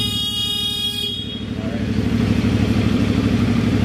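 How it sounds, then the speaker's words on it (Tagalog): Horn of a 2024 CF Moto 450 MT motorcycle sounds close and loud, one long continuous honk held for about a second, then the bike's engine idles with a steady low rumble. "Ito, sir, busina."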